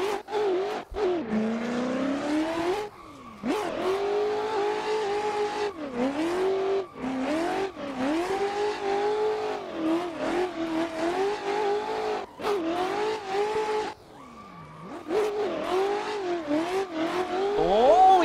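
A BMW M4 widebody drift car screams through repeated high revs in a racing video game, with long tire squeals and brief gear-change dips in a steady, loud run.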